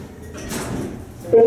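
A sliding door on a three-door elevator at UT Austin in Texas rumbles open with a soft whoosh, followed by a short electronic tone, close by in the cab.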